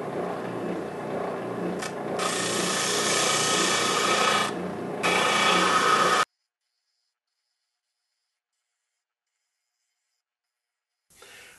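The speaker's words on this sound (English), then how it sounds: "I'll just do a little bit of cleanup on the sander now." A holly wood sunglasses frame is cleaned up on a sander, producing a loud close abrasive grinding roar for about six seconds with two brief pauses, then silence, and a short burst of sanding at the very end.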